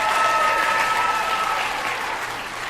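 An audience applauds a teacher at a school teachers' game event, steady crowd clapping that stays loud and even, then eases slightly toward the end.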